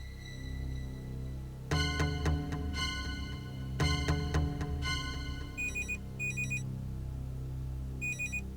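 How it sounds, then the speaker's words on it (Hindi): A telephone rings in repeated bursts of bright electronic trills, fairly close, followed by a few shorter high beeping chirps; no speech. "ये सुबह सुबह किसका फोन आ गया?"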